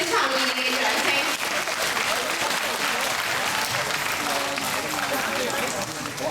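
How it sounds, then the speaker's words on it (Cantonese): A room of parents gives sustained applause for preschool children at a kindergarten event, a dense, even wash of many hands clapping close by that continues throughout without a break. "我哋再俾一次我哋預備班嘅小朋友嘅掌聲"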